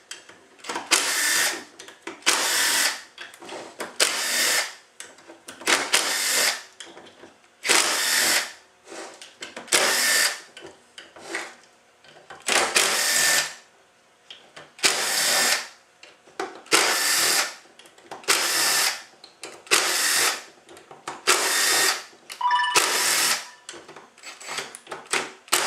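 A power drill backs T25 bolts out of the pump cover on a 45RFE transmission. It whirs loudly and close in about a dozen short, repeated bursts separated by brief pauses, and no one speaks.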